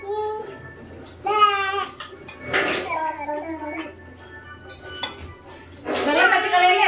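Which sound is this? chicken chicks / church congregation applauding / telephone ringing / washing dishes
washing dishes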